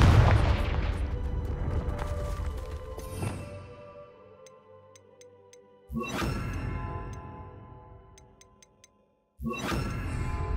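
A Confringo fire spell in Hogwarts Legacy goes off as loud booming blasts, three bursts spaced several seconds apart with ringing tails fading into near silence between them.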